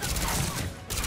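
A short burst of rapid gunfire in the video game Mass Effect 3, dense and loud for about a second.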